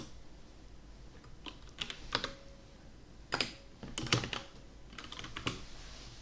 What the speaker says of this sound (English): Imagine me typing all of this.